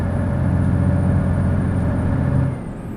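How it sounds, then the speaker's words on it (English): A steady, low engine drone hums continuously, loud and close, like riding inside a moving vehicle, then eases off slightly near the end. "hear the engine purr there"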